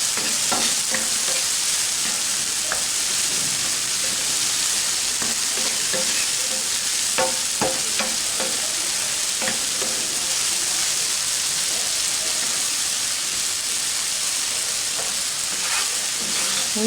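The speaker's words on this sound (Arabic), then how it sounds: "وكنحركو البصله ديالنا حتى كتدبل" Onions frying in a pan with salt as they are stirred, a steady close sizzle with scraping stir strokes, no voices.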